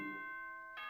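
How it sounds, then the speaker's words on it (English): A doorbell chime sounds in the Danganronpa 2 video game, a clean sustained electronic tone ringing steadily with a second higher note struck near the end, clear and isolated. "A chime."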